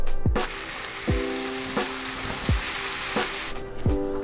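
Yakisoba noodles fry in a pan with a steady sizzle, broken by about six quick stirring scrapes at regular intervals, close and moderately loud with no talk.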